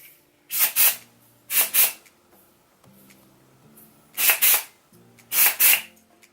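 Four quick two-part bursts of Living Proof Full Dry Volume Blast sprayed into curled hair, each a close, loud hiss with short quiet gaps between them.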